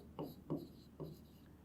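Pen strokes writing the word yellow, three short scratchy bursts in quick succession, close and quiet with no talk.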